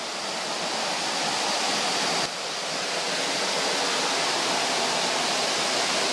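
Rushing water from Saeng Chan waterfall in Ubon Ratchathani, Thailand, in rainy season roars in a dense, steady wash of noise, loud and unbroken throughout.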